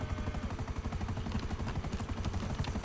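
A helicopter in GTA 5 Online gives a fast, steady rotor thumping with a whining engine, loud and continuous throughout and without voices.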